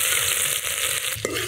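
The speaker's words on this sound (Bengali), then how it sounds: "নেড়ে চেড়ে ভাজা ভাজা করে নেই।" Whole spices including dried chilli and crushed ginger fry in hot oil for khichuri. A dense, close sizzle holds steady throughout, with a brief clunk of stirring near the end.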